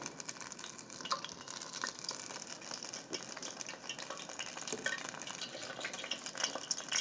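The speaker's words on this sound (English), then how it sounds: "We don't want them to steam, we want them to fry." Battered onion rings fry in a pot of hot oil in batches, a steady close crackling sizzle with occasional pops and light utensil clinks, no voices.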